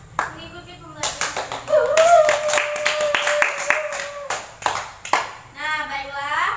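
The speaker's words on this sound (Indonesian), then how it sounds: "marilah kita memberikan apresiasi untuk kita hari ini berupa tepuk tangan" An elementary classroom of children claps hands in appreciation, a burst of bright, loud, rapid clapping that starts abruptly and runs for a few seconds, mixed with kids' voices and some singing or chanting before and after.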